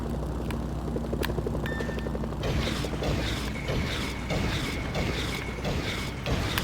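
A helicopter in the video game Mercenaries: Playground of Destruction drones steadily with a rhythmic rotor chop and mechanical whine, loud and continuous, shifting character partway through as the engine noise swells.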